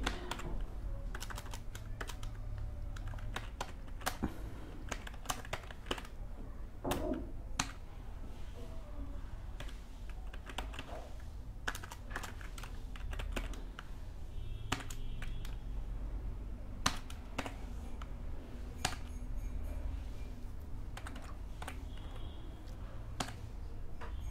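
Rapid clicking keystrokes on a computer keyboard while code is typed, close and fairly quiet, arriving in irregular bursts with short pauses between runs of typing.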